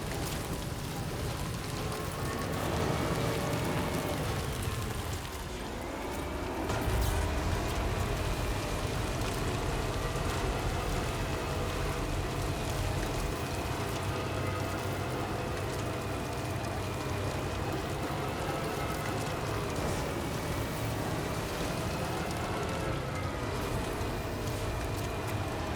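Steady rain in the video game Death Stranding 2, a continuous broadband hiss of falling drops that holds for the whole stretch, with game music tones layered over it and no clear talk.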